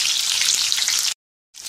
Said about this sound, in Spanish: vamos a seguirlas friendo